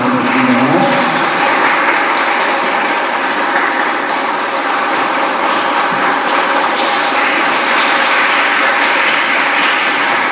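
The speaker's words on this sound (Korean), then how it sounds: "목사님 나오실 때 박수로 환영해 주시면 감사하겠습니다." Steady applause from a large church congregation in Paris welcoming a pastor fills the room, sustained and even throughout without pause.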